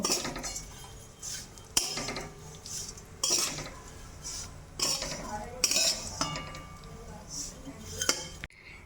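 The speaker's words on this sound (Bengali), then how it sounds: "লাচ্ছাটা দিয়ে ভালো করে ভেজে নেব" Lachha vermicelli frying in melted ghee as a spoon stirs it, with repeated metallic scrapes and clinks against the pan at irregular intervals over a quiet, steady sizzle.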